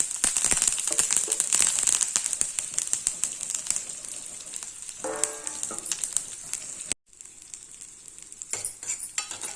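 Mustard seeds, urad dal, cumin, onion and curry leaves tempering in hot oil: a dense, close crackling sizzle with stirring that runs almost continuously, broken by one brief drop before resuming.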